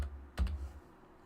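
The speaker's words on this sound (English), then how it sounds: "we're going to type coin" A few quick keystrokes on a computer keyboard, a short burst of close clicks followed by quiet room tone.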